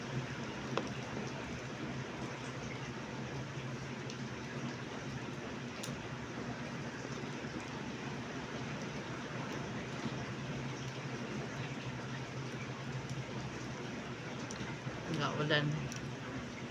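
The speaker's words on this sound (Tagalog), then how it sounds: "Ulan." Rain falls steadily as a continuous, even hiss that fills the whole stretch, with faint voices and small sounds in the background.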